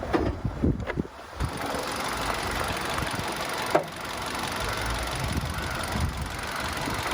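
A Kia Picanto GT-Line S engine idles with a low, steady rumble, preceded by some handling noise and a brief knock.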